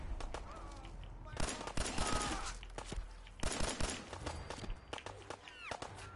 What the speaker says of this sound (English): Oh my god, firefight.